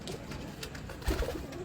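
A short, soft pigeon coo sounds close by over faint background noise.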